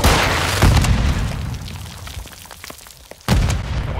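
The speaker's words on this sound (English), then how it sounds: "Throwing grenade!" A frag grenade in Call of Duty MW2 explodes with a loud, deep boom that decays into rumbling debris, followed by a second heavy blast near the end, close and forceful.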